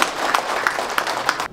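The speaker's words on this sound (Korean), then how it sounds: "다시 한번 큰 박수 부탁드립니다." Audience applause at a Korean Vietnam War veterans' commemoration ceremony: a steady, moderately loud patter of many hands clapping together for over a second, then cutting off abruptly.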